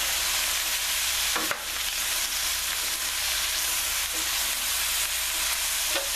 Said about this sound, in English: When you saute anything with the herbs and spices,